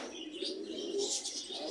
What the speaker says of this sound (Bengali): ব্রিডিং বক্সের ভিতরে লাভবার্ড পাখি